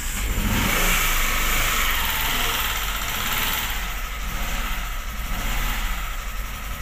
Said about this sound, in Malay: Engine ada berat, sedikit mau hidup.